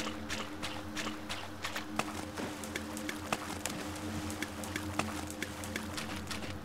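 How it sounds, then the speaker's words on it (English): Rapid, irregular hoof-like thuds clatter steadily over a low droning background, moderately loud and close, like a horse running in the video game Conscript. "Oh, look at that horse."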